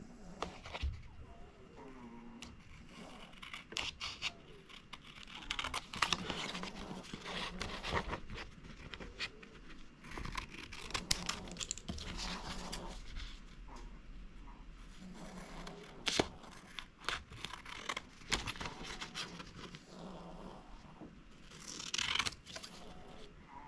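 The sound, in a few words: cutting out paper pieces with scissors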